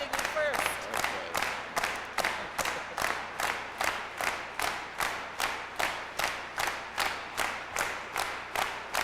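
Crowd applause at a CUPE union gathering: many people clap in a strong, regular rhythmic unison beat of about two claps per second. The clapping is loud and sustained, with faint cheering mixed in and no clear speech.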